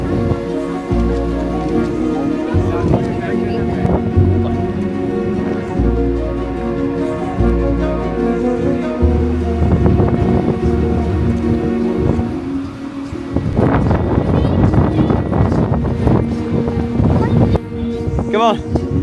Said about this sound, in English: Trying to take photos with all this wind is awful.